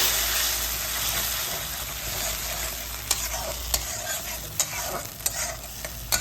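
Grated ginger, green chili and tomato frying in a pan, a steady loud sizzle with scraping stirs and a few sharp clicks of the spatula against the pan toward the end.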